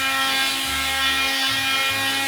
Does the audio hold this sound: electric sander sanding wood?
yes